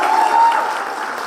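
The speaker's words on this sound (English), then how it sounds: "I'll extend a heartfelt round of applause to all the achievers here" Audience applause for award achievers at a college day event, a dense steady clapping that fades slightly over a little over a second.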